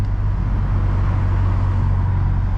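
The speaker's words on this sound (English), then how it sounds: "Like me, I really don't be revving my car like that." A Volkswagen MK6 Golf engine gives off a steady, loud, low drone with a strong bass rumble throughout, with no clear rise or fall in pitch and no voices.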